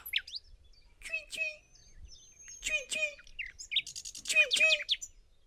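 Small bird chirping in bright, quick bursts of high tweets, several short phrases with brief pauses, clear and close against a quiet background.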